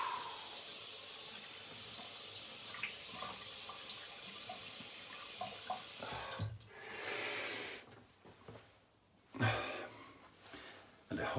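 Cold water runs from a tap at a sink before shaving with an old shaving soap, a steady faint splashing flow with a few louder surges near the end.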